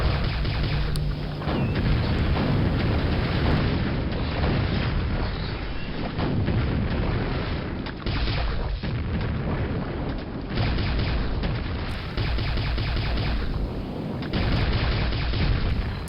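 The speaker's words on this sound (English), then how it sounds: "You can probably take them out with one well-placed rocket." Rocket blasts in the Quake single-player game: a dense, continuous run of loud booming explosions and rumbling impacts filling the whole stretch, with no talk over them.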